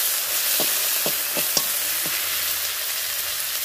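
Dried red chillies, ginger and turmeric sizzling in hot oil in a frying pan after pangas fish has been fried, a steady hiss with a few light taps of a spoon, no talk.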